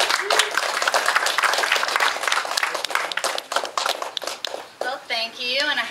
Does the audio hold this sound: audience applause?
yes